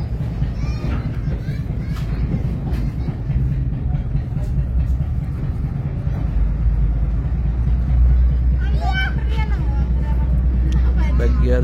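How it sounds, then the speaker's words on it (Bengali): A passenger launch pulls away from a ghat on the river route from Dhaka to Haturia, its engine a steady low rumble throughout, with crowd babble, children's voices and a few shouts mixed in nearby. "এখন লঞ্চটি পরবর্তী গন্তব্যের উদ্দেশ্যে ছেড়ে যাচ্ছে।"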